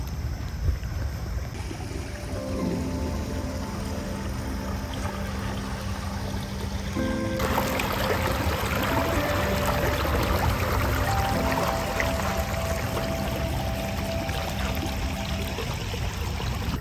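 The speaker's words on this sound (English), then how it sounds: "We saw a little glimpse of the river water flowing," River water flowing beside a hiking trail, a steady broadband rush that continues throughout and grows slightly fuller partway through.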